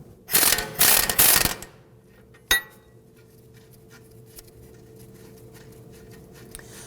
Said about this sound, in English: We're going to use a 21mm socket on our impact gun.